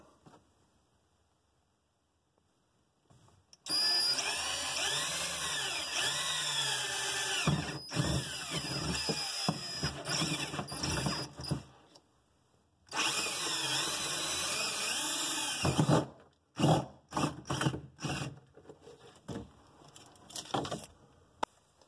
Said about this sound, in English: Then you take a 5/16 drill bit and drill those out in order to mount the lower part of your fan unit